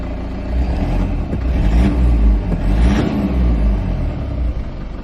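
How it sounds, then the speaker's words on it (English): Engine of a 2015 Toyota Landcruiser Prado GX-L given a mild rev, a loud, close, steady rumble that swells briefly and settles back to idle. "Alrighty, just give her a mild rev."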